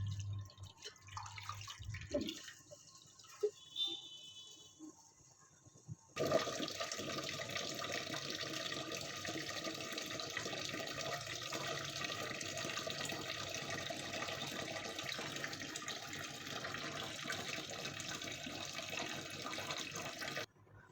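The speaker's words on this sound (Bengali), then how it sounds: "চালটা ধুয়ে নিচ্ছি" Rice being washed in a kitchen, first with faint clinks and small splashes, then a tap turns on and a steady, broad rush of running water continues to the end, moderately close.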